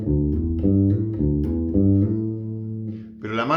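Bass guitar playing hammer-on legato notes, a steady run of sustained, connected tones with soft attacks, up close and alone, ending with a brighter plucked note.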